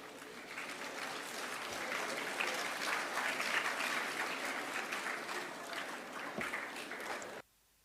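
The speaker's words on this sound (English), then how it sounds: "we would like to welcome our judges with a big round of applause" School audience at a Gonzaga Day 2023 event applauding to welcome the judges, sustained clapping from many hands that swells slightly midway and cuts off abruptly at the end.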